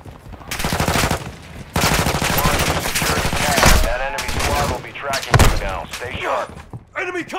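Machine gun fire in Call of Duty Warzone DMZ at Vondel, several loud rapid bursts with sharp impacts, with voices talking over much of the firing.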